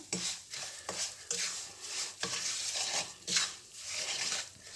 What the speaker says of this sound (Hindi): अब ये घी में हम इलायची पाउडर डालेंगे और इसी में ये पाउडर शामिल कर लेंगे और इसे थोड़ा सा भूनेंगे